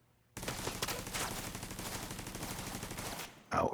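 Mini turret in the Division-style Redtail Hunter Mask mission in Brooklyn letting off a sustained, loud stream of rapid automatic fire for about three seconds, then stopping, with a sharp burst of other noise right after.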